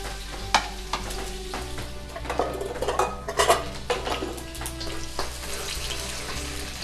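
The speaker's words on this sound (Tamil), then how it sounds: "பூண்டு நல்லா ஃப்ரை பண்ணிக்கலாம்." Garlic fries in hot oil in a wok, a steady close sizzle with a utensil stirring and clinking against the pan.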